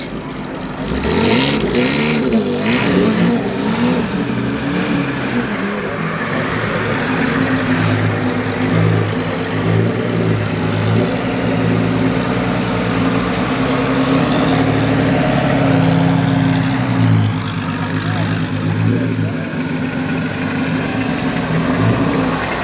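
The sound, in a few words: supercharger whine from vintage racing car engine at Prescott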